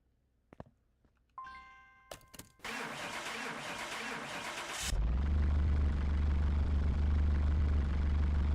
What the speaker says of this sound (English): From the sounds of it, they have an exhaust leak too.